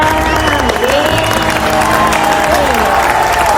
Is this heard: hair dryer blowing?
no